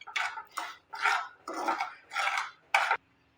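Semolina being stirred in a kadai for suji mithai, with the gas flame switched off: six steady scraping strokes of a spoon against the pan, close and distinct, with no one talking.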